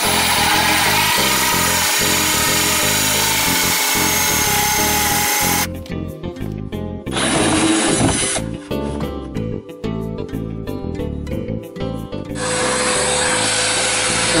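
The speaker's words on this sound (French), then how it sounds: "Je perce l'orifice." A power drill bores a hole in a wall for an electrical socket, running in loud continuous stretches broken by brief pauses and changes in pitch, close by with no talking.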